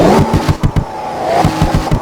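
A Corvette engine in a Roblox video game revs in short sharp bursts, several quick throttle blips with brief pauses between, loud and close.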